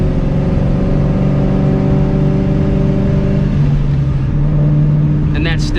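A supercharged 2V Mustang GT with a Vortech V1 T-trim blower drones at steady revs, a loud tonal engine hum that shifts pitch midway as the gear changes, with faint speech around it.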